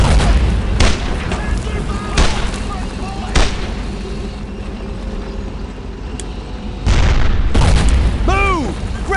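Heavy gunfire and booming blasts in the Second World War shooter Brothers in Arms: Road to Hill 30, with loud shots and explosions punching through a constant battle din. Shouted voices can be heard now and then.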